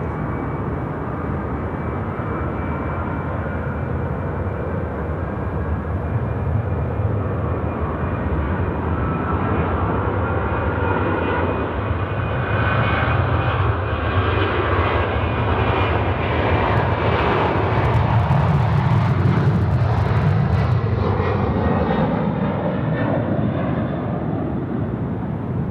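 A Boeing 767 jet takes off at night at Sydney Airport, its engine roar loud and continuous, swelling into a deep rumbling peak toward the end as the aircraft passes close.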